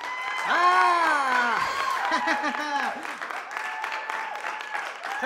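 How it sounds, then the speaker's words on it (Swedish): Hands clapping along in a children's sing-along song, a steady patter of claps running beneath bright singing voices that stay loud throughout. "Klappa händerna när du är riktigt glad."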